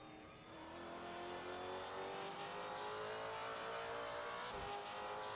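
Onboard sound of a Mustang V8 race car in a South African V8 Masters round: a steady, sustained engine drone with a brief dip near the end, heard alone without talk.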